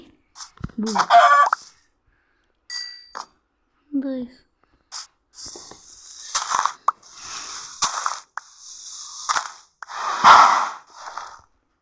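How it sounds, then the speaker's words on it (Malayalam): Chickens in the Minecraft video game cluck in short, scattered bursts, with other brief game sounds between them and a louder cluster near the end. "കോഴി"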